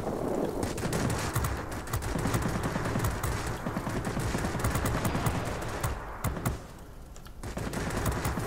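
Rapid bursts of 20mm aircraft cannon fire from an I-153P biplane in World of Warplanes, a dense rattling stream of shots that breaks off briefly and then resumes.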